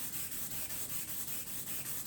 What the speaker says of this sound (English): I can tell by the sound of the sanding what's going on.